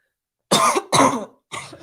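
Three harsh coughs close by, the first two long and forceful in quick succession, a third weaker one following after a short pause.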